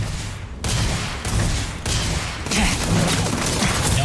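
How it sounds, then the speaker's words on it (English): Loud, dense bursts of noise from a grenade blast and gunfire in the game Starfield, with roaring, cracking sound in several surges and no quiet gaps. "it's awfully rude to throw a grenade"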